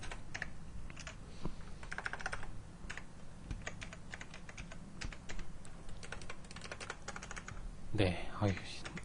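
Text being typed on a computer keyboard during Photoshop 7.0 work, a steady run of close, crisp key clicks with a few louder presses, under quiet talk.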